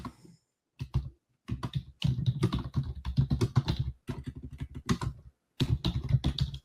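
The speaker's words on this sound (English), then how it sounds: "I'm going to be typing in our group right now." Bursts of typing on a computer keyboard, close and clear, with rapid clicking keystrokes in uneven clusters separated by short pauses.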